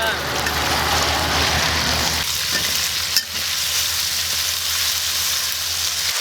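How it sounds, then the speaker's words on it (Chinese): Marinated pork and pork fat stir-fry in a wok with a loud, continuous sizzle that drops back partway through, with a brief scrape and faint talk now and then. "腌制过的猪肉下锅炒"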